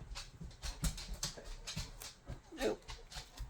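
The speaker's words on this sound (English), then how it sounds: "If you hear some noise, that's my dog." A pet dog named Ellie moves around a room indoors, her footsteps and rustling making soft, irregular bumps, with a faint whimper partway through.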